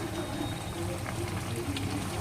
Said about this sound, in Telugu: చూడండి చికెన్ ఎంత బాగా ఉడుకుతుందో, మామూలుగా లేదు.